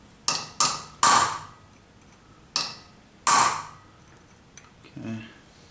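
A hammer drives a chisel into a part of a Dodge 4.7 crate engine: five sharp, ringing metallic strikes at uneven intervals, close and loud, then a softer knock and a dull thud.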